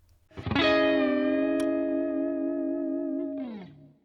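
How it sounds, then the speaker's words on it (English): Electric guitar through a Fjord Fuzz Emblem fuzz pedal into a Uni-Vibe, playing one loud, sustained, thick fuzzed chord with swirling modulation that rings for about three seconds before sliding down and fading. "that classic fuzz going into a Uni-Vibe"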